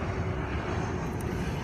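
An airplane passes overhead in San Diego, its engine a steady, moderately distant roar that fills the whole moment.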